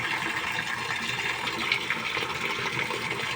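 Water runs steadily from a faucet aerator, a soft continuous hiss and splash at low, even volume with no voices.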